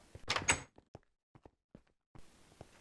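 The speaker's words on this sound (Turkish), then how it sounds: "Kapıyı ört oğlum gelirken." A door closing in the video game Minecraft: a loud, sharp thunk near the start, followed by a few soft taps and then quiet background.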